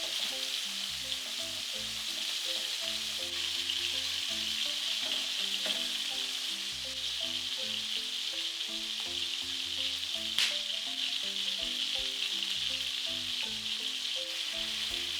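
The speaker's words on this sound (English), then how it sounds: "Give the pork a turn once it has some color and continue searing until all the sides are browned." Chunks of pork sear in a hot pot for a stew, giving a steady, dense sizzle of fat and juices that holds even and close throughout, with faint clinks of a utensil turning the meat.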